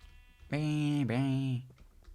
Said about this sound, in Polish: ta owca jest jakaś terrorystka upośledzona